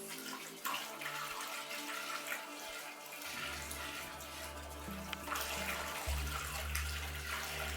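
Water pours steadily into a five-gallon container close by, a continuous splashing rush whose tone shifts lower as the vessel fills.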